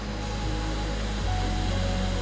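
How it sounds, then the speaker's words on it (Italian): A waterfall pours steadily as a hiker nears it on a trail in the Americas, a dense, continuous rushing roar that fills the whole clip at a constant level, with no talk. "siamo quasi arrivati alla cascata"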